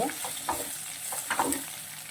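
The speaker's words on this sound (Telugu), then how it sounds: "గ్రీన్ పీస్ వేసుకొని ఇది కొంచెం వేగిన తర్వాత" Green peas and potatoes sizzling in oil in a pan for poha upma, a steady close frying hiss with a few soft stirring scrapes of a spatula, no talking.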